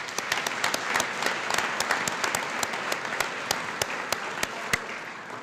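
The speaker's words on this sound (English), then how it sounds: "Let's give those folks another round of applause." Applause from a modest audience at a high school awards night, sparse individual claps standing out sharply over a steady patter of clapping, fairly close and even throughout.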